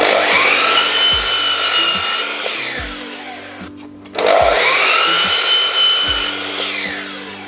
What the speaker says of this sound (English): I'm going to cheat and use the drop saw for the rest of them